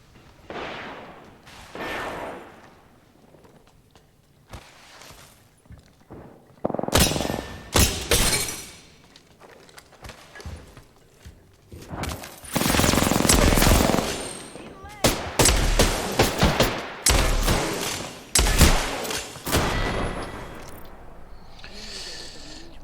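Automatic gunfire bursts and single shots in Apex Legends, loud and close, arriving in clustered volleys with a brief shattering crack, interleaved with quieter gaps and occasional game sounds.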